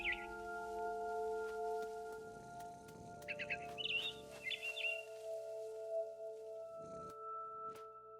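A barn swallow in What Remains of Edith Finch gives a few short, high chirps in the middle of the stretch, fairly faint over a steady tonal game background hum.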